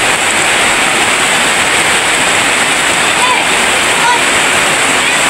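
Dense, steady roar of heavy rain pouring down, loud and continuous throughout with no breaks.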